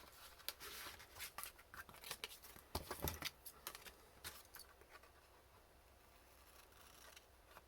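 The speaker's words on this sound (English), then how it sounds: "I want to just do some trimming on this one" Scissors snip and trim paper for a junk journal craft project, a scattered series of faint, close clicks and crisp cuts with soft paper rustling in between.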